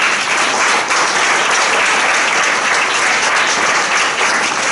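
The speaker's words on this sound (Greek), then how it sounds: "Ένα χειροκρότημα, παρακαλώ" Loud, sustained audience applause at a music friends' association event before a rebetiko performance, a dense wash of many hands clapping at once without letup.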